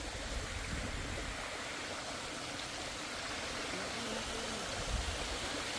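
A river swollen after rain rushes past in a continuous, broad roar of flowing water that stays loud and even, with no voices.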